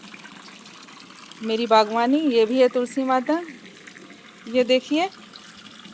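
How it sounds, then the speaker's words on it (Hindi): Fresh water runs from a garden tap for watering basil and flowering plants, a steady soft flow heard throughout beneath a woman's speech in Hindi. "ताज़ा पानी चल रहा है।"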